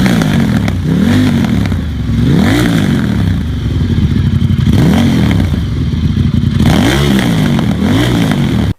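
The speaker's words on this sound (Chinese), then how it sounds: "谢大家听一下这一代发动机声浪" Ducati Diavel V-twin motorcycle, 1198 engine, revved repeatedly in short rising-and-falling blips: a loud, close, throbbing exhaust note that climbs and drops about five times over a steady idle.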